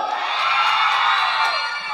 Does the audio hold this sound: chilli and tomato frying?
no